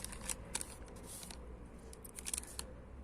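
Paper packaging of Barbie doll clothes is opened by hand without scissors, giving close, quiet, crisp rustles and tearing crinkles in irregular bursts.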